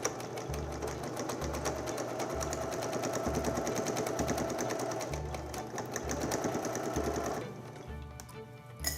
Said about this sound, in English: Pin or clip them together and sew around the outside